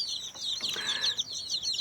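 A dense chorus of high, rapid peeping from many young country chicks in a cardboard box, continuous and close, with a faint muffled knock partway through.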